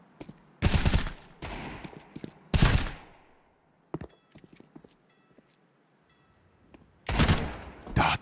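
Sharp bursts of Glock pistol fire in a Counter-Strike match at a pro esports tournament, loud clusters of rapid shots separated by quieter gaps with faint clicks, ending in another heavy volley.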